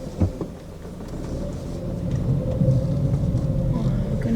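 A car reverses slowly at a rocky Joshua Tree campground, its low engine rumble steady and close, rising slightly as it moves, with no talk.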